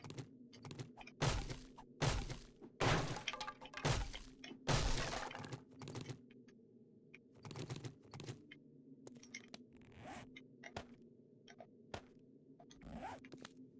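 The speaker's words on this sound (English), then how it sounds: "It even sounds like glass." In the video game 7 Days to Die, a quiet run of sharp, glass-like cracks and clinks, irregular clattering hits that come in bursts and then thin out, with no talking.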